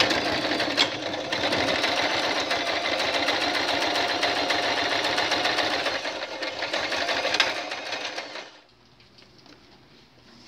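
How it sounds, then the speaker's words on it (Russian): An overlock sewing machine runs steadily for about eight seconds while stitching a shirt's shoulder seams, a fast, dense mechanical whir close to the microphone, then stops and leaves near silence. "После того, как мы сошьем плечевые швы, мы их обработаем оверлоком."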